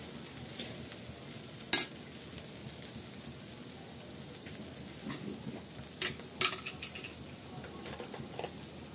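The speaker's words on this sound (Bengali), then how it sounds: "ভালো করে উল্টিয়ে পাল্টিয়ে সবজির সাথে মিক্স করে নিচ্ছি।" Vegetables for fried rice being stir-fried in a pan give a soft steady sizzle, with a few sharp utensil scrapes and clacks against the pan, one near two seconds and a cluster around six seconds.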